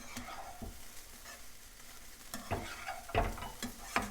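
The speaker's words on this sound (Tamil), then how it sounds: "இப்போ இதை போட்டு நல்லா கலந்து விட்டுடலாம்." Banana flower and lentil stir-fry (paruppu usili) being stirred in a pan: soft sizzling under quiet, irregular scrapes and taps of a spoon against the pan, louder strokes toward the end, no talk.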